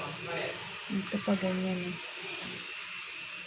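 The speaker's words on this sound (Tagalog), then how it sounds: "Yung balat, tutuyuin ko na siya gamit yung blower." A hair-dryer-style blower hisses steadily while drying corn husks indoors, a constant airy whoosh running under a person talking briefly.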